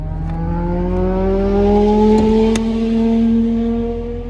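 Car traffic near an interstate ramp, heard as a loud steady engine drone with rising harmonics as a vehicle accelerates nearby, continuous and close.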